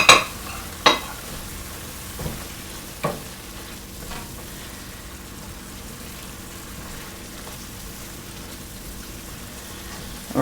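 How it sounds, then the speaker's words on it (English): Sage being stirred into a marsala stuffing cooking in a pan, a few sharp spoon scrapes and knocks at the start over a soft steady sizzle that continues alone. "I'm going to go in with my sage and give that a good mix as well"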